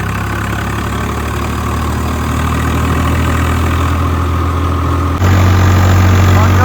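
A Swaraj tractor engine idles loudly and steadily with a deep rumble, growing a little louder and rougher near the end.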